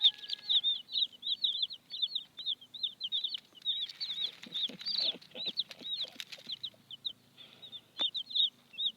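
Chickens in a basket give rapid, high-pitched peeping calls almost continuously, with soft fluttering and rustling underneath, close by.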